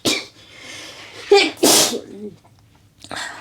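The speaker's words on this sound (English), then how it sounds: "My core is like crying when I sneeze." A person sneezes loudly and close by, with a sharp intake of breath followed by a burst, and brief speech around it.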